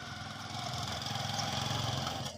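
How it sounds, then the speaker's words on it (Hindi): A motorcycle engine in a village at night, a steady mid-pitched drone holding fairly loud across the clip before dropping off at the end as it moves away. "ये मोटरसाइकिल गया है मोटरसाइकिल"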